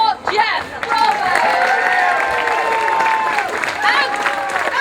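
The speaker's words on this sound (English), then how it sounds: "Another round of applause for Jeff." An audience at the New York Renaissance Faire in Tuxedo applauds and cheers an actor, a full, lively round of clapping with shouts and voices mixed in.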